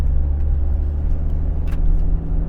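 Steady low rumble of a 2024 Mitsubishi Pajero Sport SUV driving on the road, a continuous close engine and road drone with faint higher hiss, with no voices.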